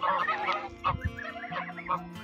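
Geese honk repeatedly nearby, several overlapping calls forming a noisy, continuous chorus with brief low thumps beneath.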